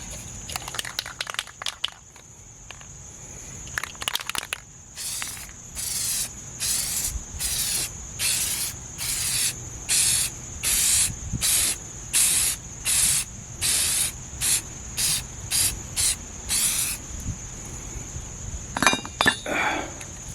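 An aerosol can hisses in a long series of short, regular bursts as a coat of spray is applied to a Range Rover Classic steering part, loud and close, with clinks at the start and end.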